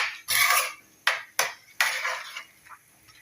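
A spoon or ladle stirs spices into a bitter gourd curry in a pan, giving several sharp metallic clinks and scrapes, close and irregular, with short gaps between strokes.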